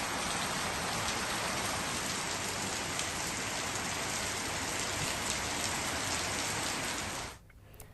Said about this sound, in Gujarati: 15 દિવસના વિરામ બાદ ગાજવીજ સાથે વરસાદ વરસ્યો છે.